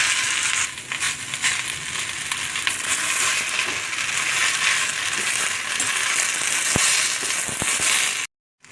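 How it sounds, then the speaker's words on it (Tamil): Curry leaves fry in oil in a pan, a loud steady crackling sizzle filling the whole stretch, with a couple of sharp clicks late before it cuts off abruptly. "கருவேப்பிலையும் ஆட் பண்ணி நல்லா வந்து வறுத்துக்கலாம்"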